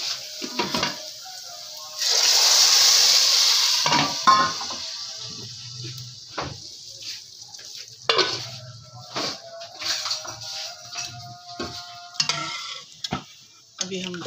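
Fried garlic tempering is poured into black lentil dal with a loud hiss and sizzle lasting a couple of seconds, followed by stirring, pot clatter and scraping of utensils.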